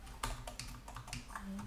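Rapid typing on a computer keyboard, a quick irregular series of close, soft key clicks with no talk.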